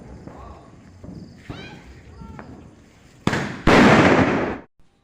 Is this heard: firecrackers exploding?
yes